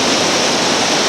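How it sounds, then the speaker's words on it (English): White water in West Virginia pouring over a rock hydraulic on a rafting river, a loud, dense, unbroken roar of rushing rapids heard close. "the main heart of the matter is right here, a hydraulic or a pour over at the top."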